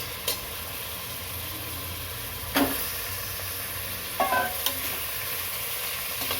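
Chicken pieces stirred with lightly fried onions in a hot pan give a steady, close sizzle, broken by a few sharp spatula scrapes and knocks against the pan; no one speaks.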